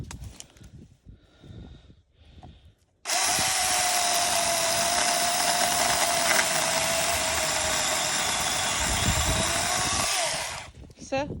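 A power saw cuts through a large tree branch, a loud, steady high whine starting abruptly and running for about seven seconds before cutting off, with quieter handling noises before it.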